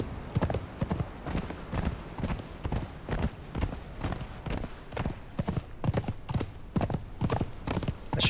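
Horse hooves clip-clop in a steady walking rhythm in Conan Exiles, sharp close knocks repeating evenly over a soft background.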